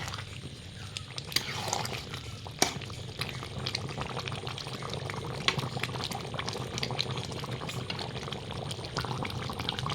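Chicken curry simmers in a pot with garam masala stirred in, giving a soft, continuous bubbling with scattered pops and occasional sharper clicks, faint and close with no talking.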